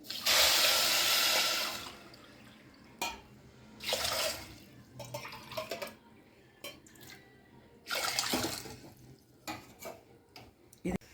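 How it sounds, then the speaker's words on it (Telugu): Water splashes into a pot of sugar for raw mango juice syrup in several separate pours, separated by quieter clinks and handling sounds, close by. "ఎన్ని కప్పులు వేసామో అన్ని కప్పులు వాటర్ వేసుకోవాలి."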